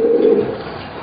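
Racing pigeons in a Taiwanese loft coo in a low, steady, throaty murmur that carries on close and clear for the whole second, with no talk over it.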